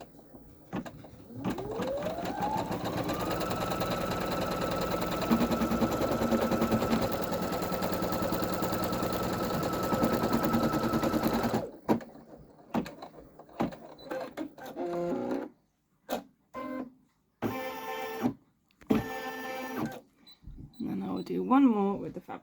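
An embroidery machine stitches a border onto a fabric patch made from fabric offcuts, running steadily with a sustained whirring drone and a pitch that ramps up at the start. It stops abruptly partway through, leaving short intermittent mechanical bursts and clicks.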